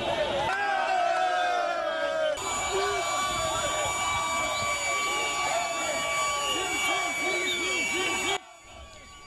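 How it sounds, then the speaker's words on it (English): A large protest crowd in Harare, Zimbabwe, chants slogans celebrating Mugabe's downfall and hails soldiers. Dense, loud massed voices run continuously, with sustained whistle or horn tones above them, before the sound drops away abruptly at the end. "chanting slogans celebrating Mugabe's downfall"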